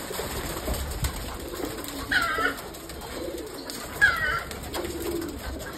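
Giribaz pigeons, a colour-matched flock sitting together, give soft cooing calls, with two clearer bursts standing out over a low, steady background hum.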